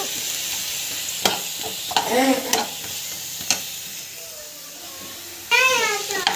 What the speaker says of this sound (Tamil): இஞ்சி பூண்டு பேஸ்ட் வந்து போட்டு இதை வந்து பார்த்திங்கன்னா நல்லா வந்து வதக்கிக்கலாம்